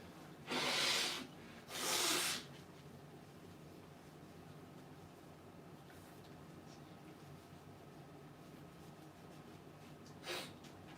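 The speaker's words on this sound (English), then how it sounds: "take a sip of water, blow my nose" Two loud, breathy nose-blowing bursts close to the microphone, then a quiet room with faint rustling and a brief softer sniff near the end.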